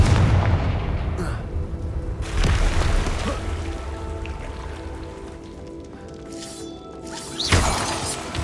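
The Confringo fire spell in the video game Hogwarts Legacy bursts with loud explosive blasts and crackling debris over a low rumbling game soundscape, with a few sharp impacts spread across the scene.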